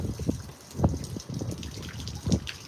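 Water gushes and splashes steadily onto a yard lawn, with a continuous wash of spray broken by a few louder splatters, close and moderately loud with no speech.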